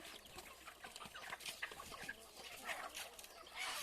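Jungle fowl cluck and call in quick, scattered bursts at a temple, several birds nearby over faint outdoor ambience.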